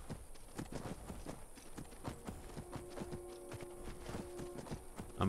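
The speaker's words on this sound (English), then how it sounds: "I'm gonna get on my horse and follow you." Horse hooves clip-clop at a steady walking rhythm in Skyrim, sharp repeated hoofbeats at moderate volume, with a faint tonal hum underneath.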